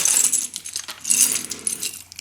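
A small plastic 12-sided gaming die rattles and clicks in a hand or against a table, with light bright taps in two clusters, close and fairly quiet.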